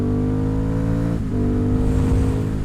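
An Aprilia Dorsoduro 900 motorcycle engine pulls hard under acceleration, a loud, close, steady buzzing drone that dips briefly and then rises again with wind rush.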